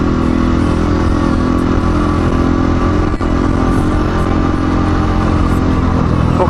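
A Romet Ogar 49 cc moped engine runs loud and close, a constant buzzing drone with a faint clatter, holding an even pitch throughout without revving up or down.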